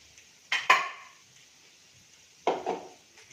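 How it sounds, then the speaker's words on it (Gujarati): A spoon clatters against a pot while spinach biryani masala with peas and corn is stirred together, two short bursts of scraping and clinking a couple of seconds apart, with quiet between them. "હવે એને આપણે મિક્સ એકદમ સરસ કરી લઈએ."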